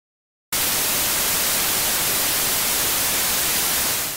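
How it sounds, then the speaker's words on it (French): Electronic circuit background noise, a random mix of all frequencies, starts abruptly after a short silence and continues as a steady, loud, even hiss like static. "il y aura toujours un certain bruit de fond, qui sera un mélange de toutes les fréquences aléatoires"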